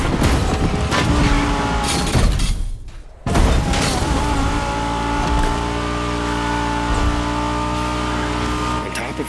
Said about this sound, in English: So you're driving a Lamborghini Huracan Performante with a special Liberty Walk performance flavor.